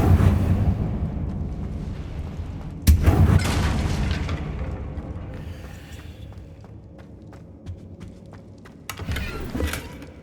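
Confringo fire spell exploding in Hogwarts Legacy, a loud close boom that bursts out and rumbles down, with a smaller blast later over a low, steady game ambience.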